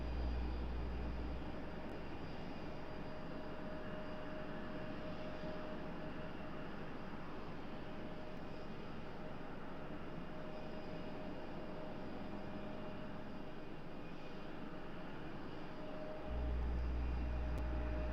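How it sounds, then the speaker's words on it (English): American Airlines CRJ jet taxiing at RDU airport, a faint, steady engine drone heard from a distance, with a deeper rumble at the start and end and no talk. "Our one and only American Airlines CRJ."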